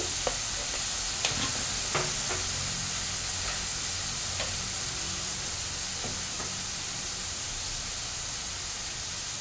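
Hakka noodles stir-fry in a pan after a splash of vinegar, producing a constant hissing sizzle with occasional scraping stir clicks, close and even, no talking.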